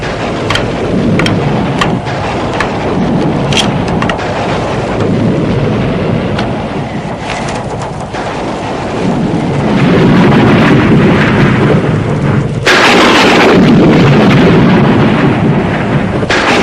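A thunderstorm on a stormy night: heavy rain hisses without a break while thunder rolls and cracks, building to a louder, fuller roar toward the end, with no voices.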